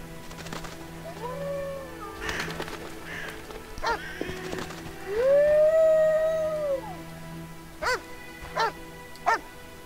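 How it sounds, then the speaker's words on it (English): A dog in The Witcher game barks and lets out a drawn-out howl, followed by a few sharp separate yelps, heard clearly over a quiet game ambience. "That dog seems to be looking for something."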